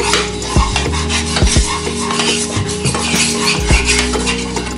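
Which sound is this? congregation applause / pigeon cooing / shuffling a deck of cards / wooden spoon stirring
wooden spoon stirring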